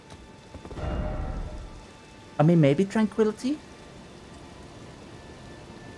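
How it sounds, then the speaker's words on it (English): Steady rain in the Elden Ring game world falls as a soft, continuous hiss, swelling briefly early on, while someone talks over it partway through. "and of course it's rain."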